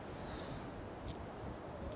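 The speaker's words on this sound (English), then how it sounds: "you get some really strong gusts" Strong wind gusts in Ireland blow against the microphone, a steady rushing roar with slight surges and no voices.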